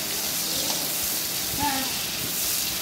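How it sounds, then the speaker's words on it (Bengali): Potatoes frying in a pan for a fish curry, a steady close sizzle and hiss with faint bubbling. "দেখুন আলুগুলো দিয়ে এবার ফ্রাই করে নিতে হবে আলুগুলোকে ভালোভাবে"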